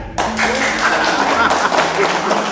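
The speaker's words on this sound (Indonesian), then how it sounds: "Tepuk tangan." A crowd applauds steadily, a dense wash of clapping that starts abruptly and carries on at an even level.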